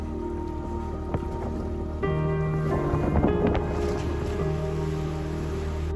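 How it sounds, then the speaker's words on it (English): Steady wind noise buffets the microphone outdoors on the Lido Deck of a rocking cruise ship at sea, with a low continuous rumble and scattered patters and creaks, growing slightly louder partway through. "it's a bit windy and a bit rocky this morning"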